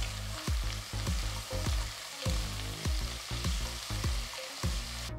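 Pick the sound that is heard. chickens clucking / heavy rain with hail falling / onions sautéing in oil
onions sautéing in oil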